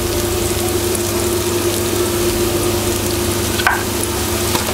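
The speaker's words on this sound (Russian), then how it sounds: "На среднем огне мы хорошо обжариваем лук. Вот он уже начал у нас поджариваться." Continuous close sizzling of onions frying in a pan, steady and even, with a brief clink midway.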